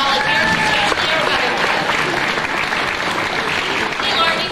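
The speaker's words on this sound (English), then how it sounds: "how about a big round of applause for all of our volunteers" Audience applause fills an Earthquake ride show at Universal Studios Florida in 2005, honoring the volunteers: a steady, dense roar of many hands clapping throughout, with crowd noise mixed in.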